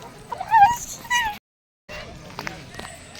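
A dog whimpers and yips in high, wavering cries close by near a river at Dubare, and a brief silent gap breaks the sound partway through.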